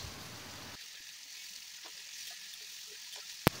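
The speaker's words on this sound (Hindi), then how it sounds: "अब इसमें हम डालेंगे 2 चम्मच अदरक लहसुन का पेस्ट। इसे हम 1 या 2 मिनट तक पकाएंगे मसालों को।" Ginger garlic paste frying with onions in a pan for rajma masala, a soft, steady sizzle with faint stirring clicks and one sharp utensil knock near the end.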